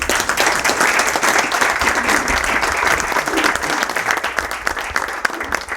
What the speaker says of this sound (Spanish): Un aplauso por esto